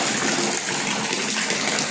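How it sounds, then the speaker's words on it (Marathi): Rainwater gushes and splashes steadily from a drain pipe in a loud, continuous rushing stream, with no voices. "इथून आपण आपल्या जिन्याचं पाणी काढलेलं आहे."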